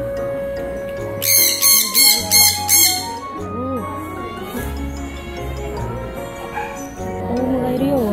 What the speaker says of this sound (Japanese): オウムがいるよ。 オウムが。 ヨウムかな。